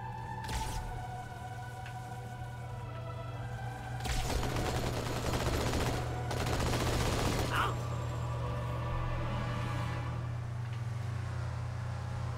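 Gunfire in the Halo 2: Anniversary video game, rapid automatic bursts in two dense stretches over a steady low hum, with a few isolated shots before, moderately loud.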